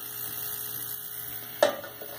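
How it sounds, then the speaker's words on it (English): An ultrasonic cleaner runs with brass reed organ reeds soaking in a basket of cleaning solution. It gives a steady, faint electric hum, broken once by a single light metallic clink. "And then I turn on the ultrasound for about 15 minutes or so."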